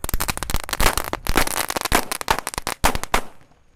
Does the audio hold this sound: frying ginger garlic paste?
no